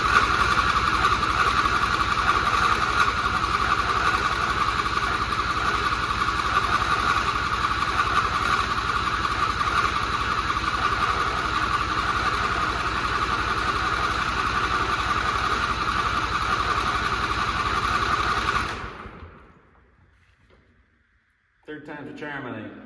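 A John Deere lawn mower's small engine runs rough and loud at close range for about nineteen seconds, then cuts out into near silence before a brief burst of sound returns.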